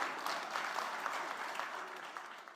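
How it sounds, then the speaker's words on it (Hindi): Applause from an invited audience in an auditorium after a multilingual poetry recital. Brief, dense, fairly soft clapping is spread evenly across the whole moment. "जोरदार तालियां सभी के लिए"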